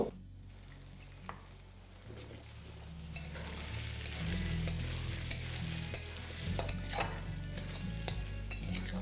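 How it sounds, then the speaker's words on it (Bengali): Diced potatoes frying with onions in a pan: quiet, close sizzling that swells midway, with spatula scrapes and clicks against the pan recurring every few seconds. "যেটাকে আমি পেঁয়াজের সাথে ভালো করে ভেজে নেবো"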